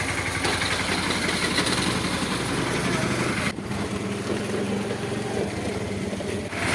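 A tractor engine idles with a steady, loud, low rumble that continues throughout, dipping slightly partway through.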